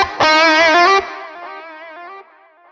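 Distorted electric guitar lead through a Morgan amp simulation with hall reverb: a bright, loud run of picked notes ending on a held tone, followed by a long, fading ambient tail with no talking.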